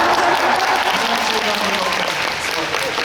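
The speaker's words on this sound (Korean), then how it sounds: "여러분 재밌게 즐겨주시고 네 박수 많이 부탁드리겠습니다" Audience applause at a live performance, a steady, dense wash of clapping filling the whole moment at close range with no clear pauses.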